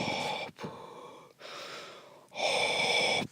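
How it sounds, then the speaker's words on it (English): Darth Vader's mechanical respirator breathing in Star Wars: The Force Unleashed: three slow, loud, hissing breaths in and out, each separated by a brief pause, alone and close. "Vader keeps breathing."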